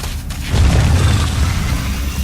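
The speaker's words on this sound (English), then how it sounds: "You can see LosirA destroying his own rocks now." Destructible rocks breaking apart in StarCraft 2, a heavy low rumbling boom that swells and then holds as a steady crumbling roar, no voices.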